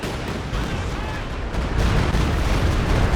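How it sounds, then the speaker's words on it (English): A Stuka dive bomber attack in the WWII strategy game Company of Heroes 2, heavy rumbling blasts and gunfire building into a louder, sustained barrage of low booms, with faint voices in the mix. "Oh, nice Stuka again."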